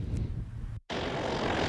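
A propeller airplane drones steadily at Palatka Municipal Airport, a broad rumbling engine noise broken by a brief cut before resuming, with wind across the microphone.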